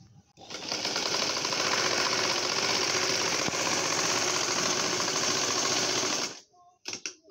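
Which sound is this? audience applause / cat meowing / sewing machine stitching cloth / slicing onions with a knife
sewing machine stitching cloth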